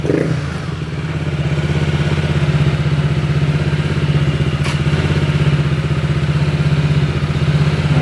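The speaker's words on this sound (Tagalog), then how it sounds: "talagang ma maingay yung makina nito talaga mga sir" A Honda ADV160 scooter engine idles loudly and steadily up close, with a rattling, clattery rhythm that continues throughout without speech.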